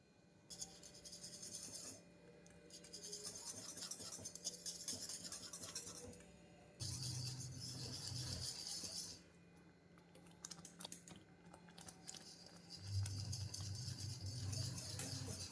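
Gram flour being worked by hand into a thick batter, giving rubbing, scraping and light clattering sounds in uneven bursts, with louder stretches of mixing near the end and no talk.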